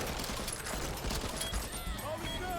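Gunfire from bot teammates shooting at nests in the zombie shooter game Back 4 Blood, a dense, busy barrage of shots over game noise, with some voice present.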